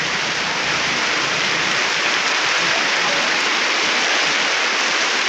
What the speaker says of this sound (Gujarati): વરસાદની મોજ જોરદાર ઠંડક કર્યું